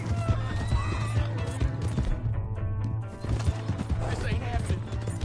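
In the video game Red Dead Redemption, a horse's hooves clip-clop rapidly and a horse whinnies, mixed with mechanical clicking and game sound effects.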